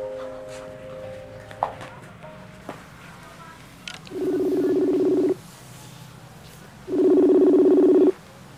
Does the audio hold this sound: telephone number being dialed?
yes